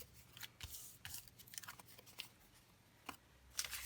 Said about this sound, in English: I'm going to cut the tab out